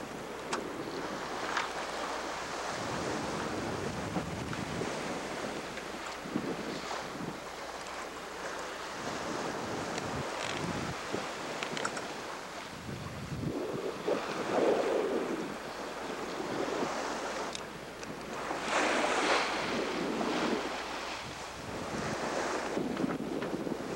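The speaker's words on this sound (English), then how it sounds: "Definitely big waves." Big ocean waves and strong wind buffet a Baba 35 sailboat running under mainsail alone at 7 to 8 knots, a continuous roar of wind noise with surging, rushing wash of water rising and falling around the hull.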